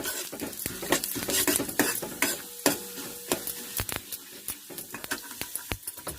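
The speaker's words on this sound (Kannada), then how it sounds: "ಈಗ ಉದ್ದಿನಬೇಳೆ ಕೂಡ ಹಾಕ್ಕೊಳ್ತಾ ಇದ್ದೀನಿ ಇದು ಚೆನ್ನಾಗಿ ಗಮ್ಮನ್ನು ಹಂಗೆ ಹುರ್ಕೋಬೇಕು" Chana dal and urad dal frying in a pan, with a steady sizzle under repeated scraping and stirring clinks of a spoon against metal, close and fairly loud throughout.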